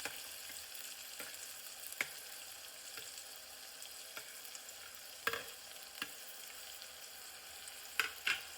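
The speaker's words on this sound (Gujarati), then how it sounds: "વઘારમાં આપણે કટિંગ કરેલી લીલી ડુંગળી, લીલા મરચાં, લીલું લસણ એડ કરી" Chopped green onion, green chilli and green garlic sizzle steadily in hot tempering oil for a village-style chana dal sabzi, with occasional spoon clinks and stirring scrapes over the constant frying hiss.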